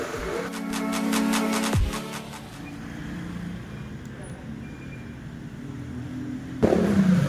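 Traffic passing outside on a busy street forms a steady roadside rumble of engines. A tonal, horn-like blare sounds near the start, and a louder burst arrives at the end.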